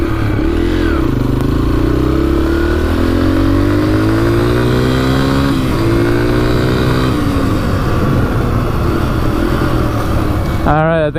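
A dirt bike engine revs loudly and close while being ridden, rising and falling in pitch through repeated throttle pulls and gear changes, with a rider's voice briefly heard over it.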